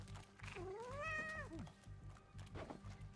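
A cat meows in Hades II, one drawn-out rising and falling call near and clear, followed by a shorter softer mew, over a low steady game backdrop.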